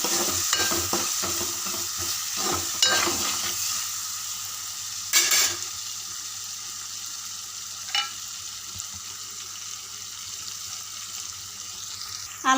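Ginger garlic paste frying in a pan, with a steady hiss of sizzling oil and a few scraping stirs and clatters near the start, then a quieter, even sizzle.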